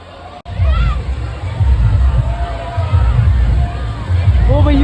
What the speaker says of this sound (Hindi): ओ भैया कितनी भीड़ है